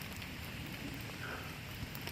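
Steady rain falls outdoors in a backyard shooting area, a constant dense hiss of drops on surfaces, even and unbroken throughout with no voices.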